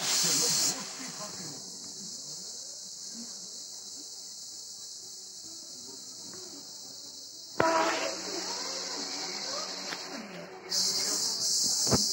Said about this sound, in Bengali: এই জিরে তেজপাতা শুকনো লঙ্কা ফোড়ন দিয়ে নিয়েছি